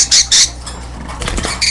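A pet parakeet squawks in sharp, loud bursts, two close together at the start and another near the end, with softer rustling between them and no speech.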